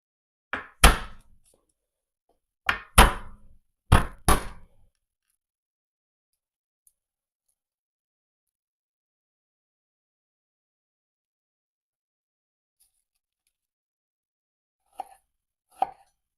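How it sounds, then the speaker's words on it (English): A knife cuts large garlic cloves into smaller pieces for a Greek-style lamb leg roast, with three quick bursts of sharp, close chops on a board, then long silence and two faint taps at the end. "because these garlics are big, I'm gonna cut them into smaller pieces"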